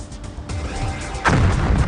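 Explosion welding blast: a sudden heavy boom that bursts in loud and rumbles on for the remaining moments, preceded by a lower background rumble.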